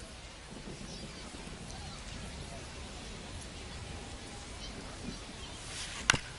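Steady rain hiss at a baseball game in MLB The Show 25, a continuous broadband wash with no break, ending in a brief sharp crack near the close.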